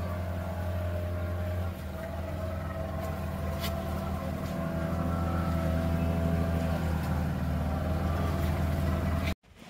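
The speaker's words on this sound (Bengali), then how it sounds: "আমরা এবার ছোট বোটে উঠে আইল্যান্ডে যাব।" A small motorboat's engine drones steadily and loudly throughout, close by, on the run across open water to Saint Martin's Island, cutting out abruptly at the very end.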